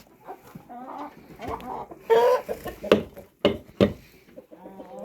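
Chickens and a young rooster peck and cluck around a feeding bowl, with a run of close, busy clucks and several sharp louder squawks bursting out in the middle.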